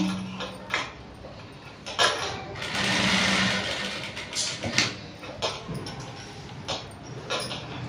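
A sewing machine stitches a princess cut blouse in bursts, its fast whirring runs loud and close, broken by short pauses and clicks as the fabric is handled.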